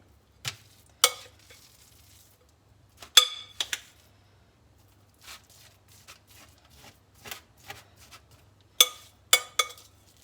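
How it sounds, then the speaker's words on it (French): A no-bake layered cake mixture spread into a square mould with a spoon, with sparse, close scrapes and taps of the spoon at irregular intervals amid near silence and no talking. "Et on vient étaler le tout avec la cuillère."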